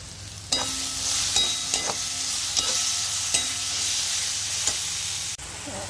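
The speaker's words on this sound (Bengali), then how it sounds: "সব মশলাগুলো দেওয়া হয়ে গেছে, নুন, হলুদ আর ওই বাটাটা দিয়ে কষাচ্ছি" Spice paste with turmeric, salt and Kashmiri chili sautéing in hot oil, a continuous close sizzle broken by several sharp scraping stir strokes at irregular intervals, with no talking.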